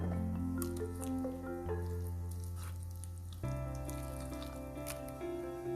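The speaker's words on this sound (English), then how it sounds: "We will add little water to get this into that idli batter consistency." Water is added to sabudana and dill leaf idli batter and mixed in, with soft wet squishing and dripping at close range under steady background music, no voice.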